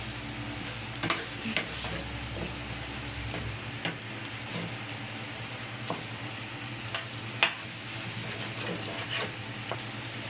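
Ground meat cooks with tomato paste in a pan, giving a steady soft sizzle with occasional light clicks of a utensil stirring, close and fairly quiet, with no speech.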